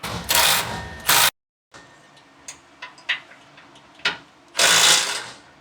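Sway bar bracket bolts on a Ford F-150 are tightened during a Belltech lowering kit install. Loud, close power-tool bursts open and close the stretch, with scattered metallic clicks and taps between them.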